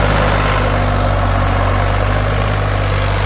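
A 2007 Farmtrac 60 tractor engine runs hard and loud at close range while working a nine-tine tiller, holding an unbroken, even drone with no voices.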